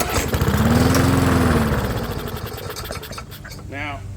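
Old Murray lawn mower with a suspected dirty carburetor, pull-started so it catches and runs briefly with a loud close rumble, then fades and dies within a couple of seconds, with a voice following.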